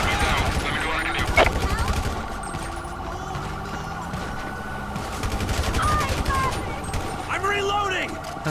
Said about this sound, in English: we gotta get out and help these other officers. They're under fire.